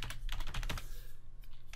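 Login username typed on a computer keyboard while connecting to a Linux machine over remote desktop: a quick burst of close, quiet key clicks followed by a pause and a couple of stray taps.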